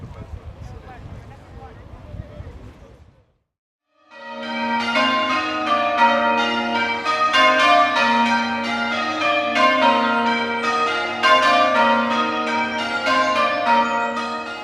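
The bells of St Mary's church in Walton peal in a steady, overlapping cascade of strikes that rings on loudly, following a short stretch of outdoor background noise.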